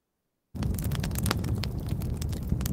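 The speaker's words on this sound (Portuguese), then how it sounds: "Esse é um barulho de fogo." Fire crackling sound played from a tinnitus sound therapy app: a steady, full roar of broadband noise with scattered sharp pops and crackles, starting abruptly after a brief silence and running unbroken, with no talking.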